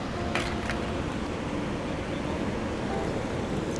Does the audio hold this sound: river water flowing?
yes